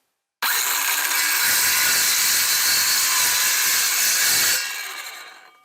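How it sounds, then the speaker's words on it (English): A power saw cuts ABS pipe to length for a snow plow blade, giving one loud, continuous whining cut of about four seconds that tapers off as the blade spins down. "I'm going to cut an inch off the other end."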